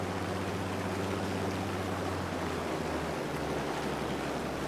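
A Dornier flying boat taxiing along a river in Microsoft Flight Simulator, a constant dense rush of water and wind over a low droning engine hum, loud and unbroken throughout.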